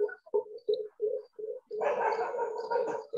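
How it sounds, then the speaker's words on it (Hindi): An Asian koel perched in a neem tree gives a series of short, evenly spaced hollow calls, followed by a longer, rougher burst, moderately close in a quiet morning. "अभी मेरे सामने एक नीम का पेड़ है, तो यहाँ पे एक कोयल आई हुई है और बैठी हुई है"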